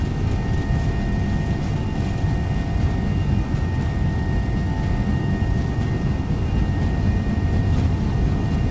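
MD-11 jet engines at takeoff thrust in X-Plane 12, a steady, loud, dense roar with a faint whine running through it that holds level and unbroken from start to finish.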